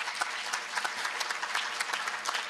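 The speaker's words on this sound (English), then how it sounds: "the Commission and the Parliament deserves a big round of applause for this initiative" Audience at a European youth summit applauds steadily, a dense, even wash of many hands clapping throughout, moderately loud with no talk over it.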